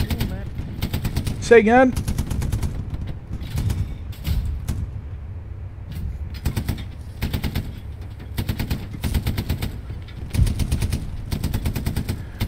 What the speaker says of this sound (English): Short controlled bursts on the MG